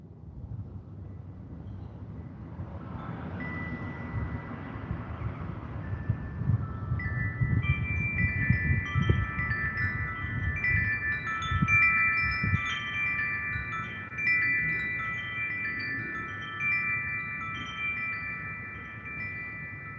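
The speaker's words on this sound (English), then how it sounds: "That wind there, it was kind of chilly." Wind gusts and rumbles through a backyard garden as a severe storm approaches, a steady low roar swelling and easing over twenty seconds, with a faint whistling tone drifting in partway through.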